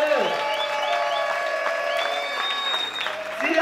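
A church congregation at a Sunday service bursts into sustained applause and cheering for the king, a dense steady roar of clapping mixed with crowd noise and music tones throughout.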